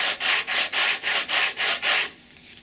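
Wooden aileron of a park flyer model plane being sanded by hand in steady back-and-forth strokes, about seven even rasping passes close up, then stopping.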